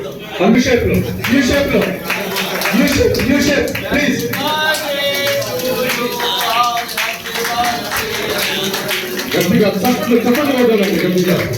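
A group of retired employees at a birthday celebration in Khammam claps together in a sustained round of applause, while a speaker's voice carries loudly over the clapping throughout.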